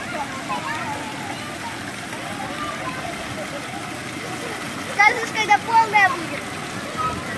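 At a water park, a large bucket steadily fills with a continuous rushing, splashing stream of water, with children's voices and talk heard over the constant flow.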